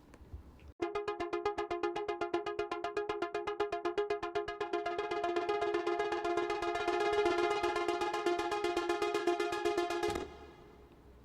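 Pitch Factor pitch-shifted sound sent through a large choir hall reverb preset, a dense rapid pulsing harmonic tone sustained for about nine seconds with a long wash, then stopping abruptly.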